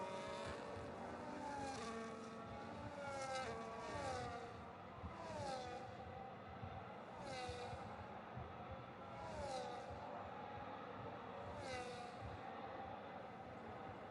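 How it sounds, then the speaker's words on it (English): Racing cars in a sim racing game at Silverstone roar past in waves, engines whining up and down in pitch as several vehicles speed by one after another over a constant motor drone. "Just listening to the cars just race around."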